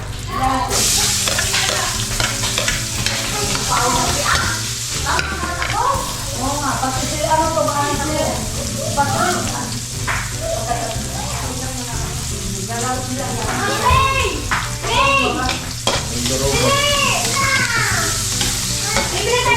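Garlic sizzling and frying in a pan while being stirred in a home kitchen, a steady loud hiss with crackles and scraping, with people talking over it.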